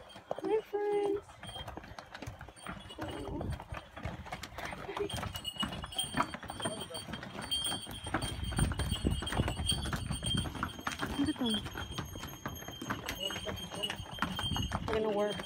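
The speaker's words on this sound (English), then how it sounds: "Look at the donkeys." Donkeys' hooves clip-clop on a Santorini street outside a window, a steady irregular clatter under ongoing talk and background noise, with the clopping growing denser and louder in the second half.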